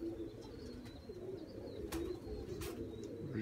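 A pigeon coos softly in a loft setting, low repeated coos under constant background noise, with a few brief sharper chirps and rustles mixed in.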